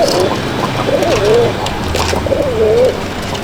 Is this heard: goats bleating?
no